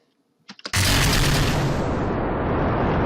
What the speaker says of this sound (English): This will explode.